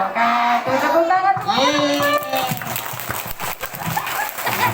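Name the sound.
audience clapping hands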